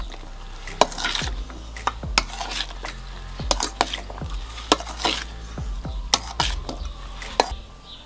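Vinegret salad of baked beetroot and carrots being mixed in a bowl, a series of close, sharp spoon knocks and scrapes at an irregular rhythm with soft rustling between them.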